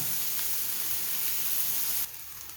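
Tomato masala sizzling steadily in a pan on the stove, an even, close frying hiss that drops abruptly to a quieter sizzle near the end.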